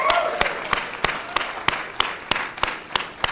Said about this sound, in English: Let's get a big round of applause to kick things off.